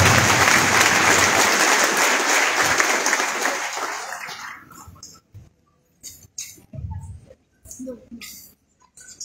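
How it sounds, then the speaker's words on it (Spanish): Loud, dense applause from a church congregation for a visiting pastor fills the first few seconds, then fades out and gives way to a voice speaking in bursts. "Fuertes aplausos, por favor, para el pastor invitado"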